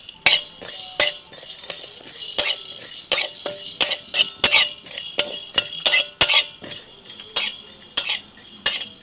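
Whole cumin, fennel, carom seeds and black pepper dry-roasted in a pan over low heat produce a rapid series of sharp metallic scrapes and clinks from a stirring utensil, close and fairly loud.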